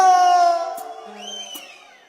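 A crowd at a social dance in Olintepeque, Xela, lets out a loud shout for the band: a sustained high, tonal cry that trails off under scattered whoops and a couple of sharp claps.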